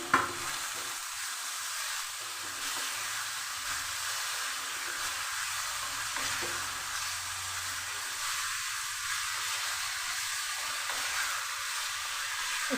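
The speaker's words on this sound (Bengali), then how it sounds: "চিকেনটা এর মশলার সঙ্গে ভালো করে কষে নেব" Chicken sautéing with spices, salt and a splash of water in a pan, giving a steady low sizzle with soft stirring scrapes throughout and no voices.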